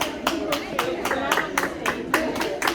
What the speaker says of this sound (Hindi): यहाँ पे देखिए लोग जो है इनकरेज कर रहे हैं लोगों को ताली बजा के